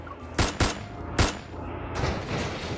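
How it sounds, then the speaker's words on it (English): Several gunshots crack out in the video game Love and Deepspace: three loud, sharp reports in quick succession, then a fourth after a short gap, each followed by a brief ringing tail. "Suddenly, several gunshots ring out, piercing my eardrums"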